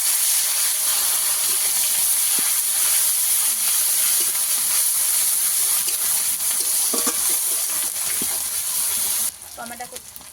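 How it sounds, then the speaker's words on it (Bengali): Onion paste hits hot oil tempered with five-spice, giving a loud, constant sizzling hiss with a few faint clinks and stirring scrapes, and a quieter stretch at the very end. "কড়াই তেল দিয়ে দেব, ফোড়নে দেবো 5 ফোড়ন। এই মাত্র পেঁয়াজ বাটা দিয়ে দেবো।"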